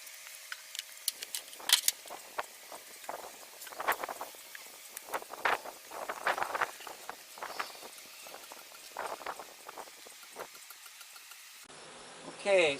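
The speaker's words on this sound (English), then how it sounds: "I'll gently brush the bees off" Honey bees buzzing on a hive frame during queen rearing work, a close, irregular drone of wingbeats rising and falling in swells, with occasional handling taps and no talk.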